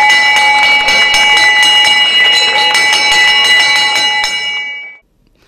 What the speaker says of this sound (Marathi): शाळेची घंटा वाजवली.